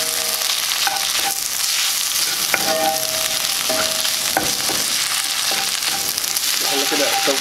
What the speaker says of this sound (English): throw in the garlic. She literally is throwing in the garlic. I'm going to give this a quick stir.